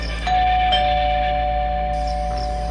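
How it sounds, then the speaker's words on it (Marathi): A single electronic doorbell chime rings out clearly, its tone sustaining and fading over a faint steady hum. "त्याने दाराची बेल वाजवली"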